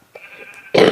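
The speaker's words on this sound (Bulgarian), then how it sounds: "малко кашлям" A single short, harsh cough bursts out close to the microphone at the end, after a moment of quiet with a faint tone in the background.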